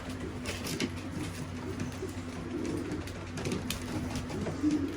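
Young weaned pigeons coo softly in a loft while pecking at grit, with repeated low coos and light scratching and pecking sounds throughout.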